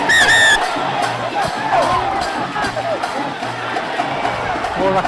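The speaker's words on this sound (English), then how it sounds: "The crowd certainly doesn't like it" Spectators at a schools rugby league match between Sri Sumangala College and St. Anthony's College shout, whistle and jeer, a loud, lively crowd roar with a shrill whistle at the start and rhythmic chanting beneath.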